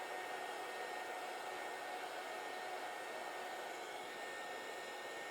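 A heat gun blows a steady, even hiss of hot air while shrinking heat-shrink tubing over a soldered wire joint on a Polaris General side-by-side, continuous and fairly soft with no talking.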